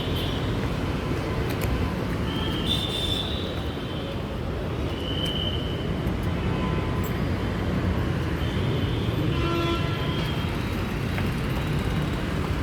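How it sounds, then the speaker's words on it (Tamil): A train rolls past close to a railway station, giving a steady, loud rumble of wheels and carriages throughout, with brief high squeals and clanks over the broadband roar. "ட்ரெயின் வந்து போயிட்டுருக்கு"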